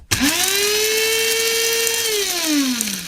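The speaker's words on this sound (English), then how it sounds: "you should grind the beans for 37 seconds" A small electric coffee grinder whirs steadily as beans are ground, a loud continuous motor whine that starts abruptly, holds level, then drops in pitch as it winds down near the end, with no voices.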